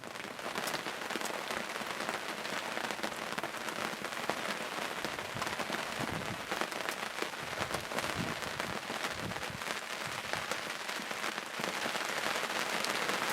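Rain patters on a turkey hunting blind in Kansas, a dense, continuous crackle of drops striking the surface at close range with no voices.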